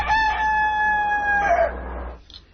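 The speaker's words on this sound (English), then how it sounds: "Now everybody knows that's a rooster." A rooster crows once, a loud drawn-out cock-a-doodle-doo with a falling end, close and clear over a low background hum.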